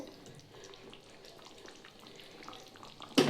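Cabbage fritters are gently stirred in ghee in a pan, giving a soft, low sizzle with faint scraping. A brief sharp clatter comes at the very end.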